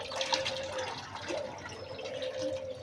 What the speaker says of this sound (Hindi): थोड़ा पानी और डालते। पानी और डालो।